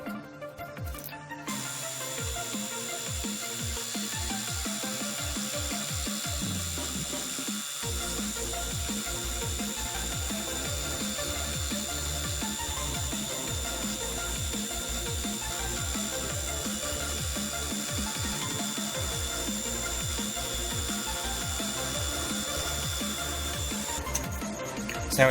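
Plastic strips for a hidden blade prop being cut with a tool, a long run of rapid, even rasping strokes after a brief pause, steady and close.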